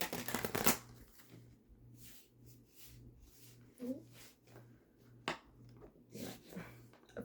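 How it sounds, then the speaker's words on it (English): A deck of tarot cards being shuffled, a soft riffling flutter at the start followed by quieter scattered card sounds, faint, with a low steady hum underneath. "I fucked up my shuffle of my cards."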